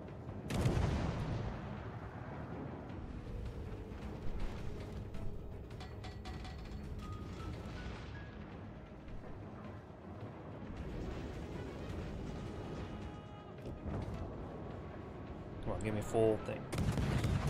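Heavy battleship guns fire during a naval battle in World of Warships, with deep booming blasts and rumbling impacts that rise and fall over a continuous low roar, and a sharper burst near the end.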